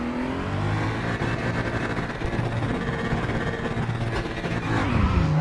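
Simulated race cars, BMW M235i Cup machines at Laguna Seca in RaceRoom, launch from the grid, a steady engine drone with rising revs that swells louder near the end, no talking.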